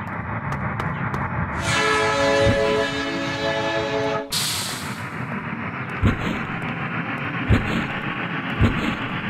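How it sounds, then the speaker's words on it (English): A train in the game Amok Runner sounds a loud, sustained horn, then a sharp hiss of air before rolling off with rhythmic clanks and thumps of its cars. "Hurry up, the train's about to leave."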